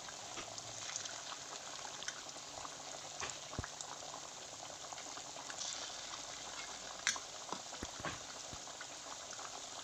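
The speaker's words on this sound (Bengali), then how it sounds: "এখানে আমি সাদা তেল দিয়েই ভাজলাম" Six or seven chicken pakoras deep-fry in white oil in a pan, making a steady, quiet sizzling fizz with scattered small pops and crackles.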